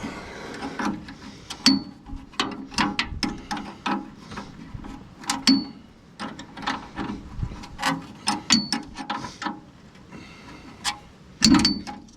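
A fitting is tightened on the dashboard of an old Lansing Bagnall tug with a ratchet wrench, giving a fast, irregular run of close clicking and ratcheting.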